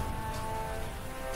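Rain falls steadily during a monsoon trek up Rajgad fort, a continuous dense patter close by with a faint tonal hum underneath.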